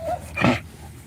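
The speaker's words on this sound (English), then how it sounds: "Leave that puppy alone. Don't bark." A puppy gives a short whimpering, wheezy yelp, brief and close, over quiet background.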